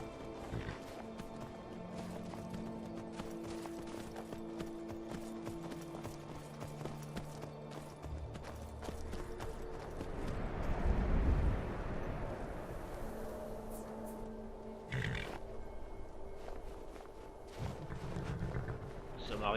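Horse hooves clip-clopping as a Cyrodiil horse travels the road in Skyrim, a steady rhythmic beat running throughout under game music and ambience, with a louder swell midway.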